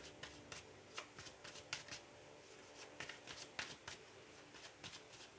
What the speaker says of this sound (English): So let's pull more cards out here